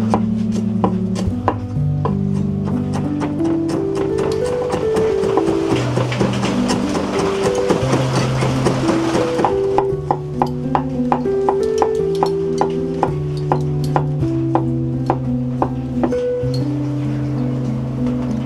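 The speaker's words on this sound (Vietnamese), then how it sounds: "em sẽ đi băm một ít sả với lại tỏi." Lemongrass and garlic being minced with a knife, a steady run of quick, close chopping knocks on a board over tonal background music, the pace slowing slightly partway through.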